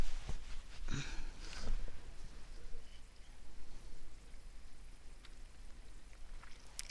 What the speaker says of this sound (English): Here I am in the rain.